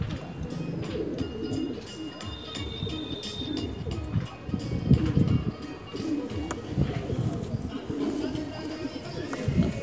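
Krashu high-flyer pigeons coo in a low, continuous murmur of overlapping calls, with faint chirps and some background voices mixed in.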